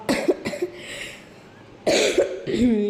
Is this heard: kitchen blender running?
no